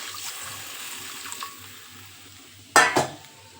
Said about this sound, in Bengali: এই উষ্ণ গরম জল দিয়ে দেব